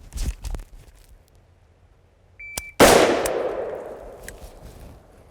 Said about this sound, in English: We're gonna do a single shot from low ready first